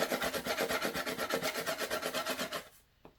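Pencil or pen drawn back and forth on paper in quick, even strokes, a steady rhythmic scratching that stops abruptly near the end, followed by one faint tap.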